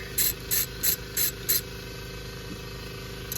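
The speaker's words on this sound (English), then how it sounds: "next step is to remove these two bolts and take this high pressure line off" Five quick ratchet bursts loosening 10 mm bolts on a power steering high-pressure line of a Honda Element, each short rasping click run evenly spaced and close, followed by quiet.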